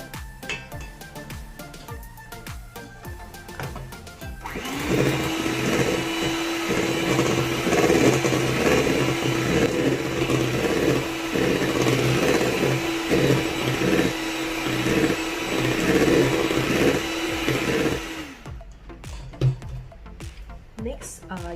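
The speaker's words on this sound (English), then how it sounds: "slowly, gradually increase the speed of the hand mixer" An electric hand mixer whirs steadily through madeleine batter for about fourteen seconds, a loud, continuous motor drone starting and stopping abruptly, with a quieter kitchen hum before and after.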